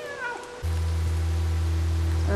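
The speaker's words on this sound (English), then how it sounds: "We can meow. We can just make noise." A cat meows in the PlayStation 5 game Stray, with wavering high cries early on giving way to a loud, steady, droning tone that holds to the end, with no talking.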